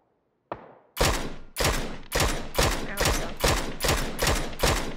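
Loud bursts of gunfire in the video game PUBG, about nine sharp, evenly spaced shots with ringing decay after one softer opening crack, close and unmasked by talk.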